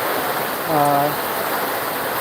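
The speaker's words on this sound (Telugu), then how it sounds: "ఇప్పుడైతే వర్షం అయితే భారీ స్థాయిలో కురుస్తుంది" Heavy rain pours down in Velichala village, a loud, continuous broadband wash of water, with a brief voice-like tone rising over it partway through.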